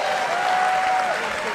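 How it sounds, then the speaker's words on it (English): Wrestling crowd at a pro wrestling world cup event in Mexico, a Rey Mysterio vs Alberto El Patron match: dense, continuous applause and cheering filling the arena, with a commentator talking over it. "This crowd loving these greatest hits of Rey Mysterio"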